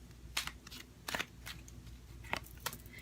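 Tarot cards shuffled by hand close up, a few quick papery riffles and flicks in short bursts separated by soft pauses over a quiet room hum.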